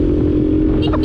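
A Suzuki Skywave automatic scooter engine revved hard while climbing a steep road toward Kawah Ijen, giving a loud, steady, close drone, with a voice briefly heard at the end.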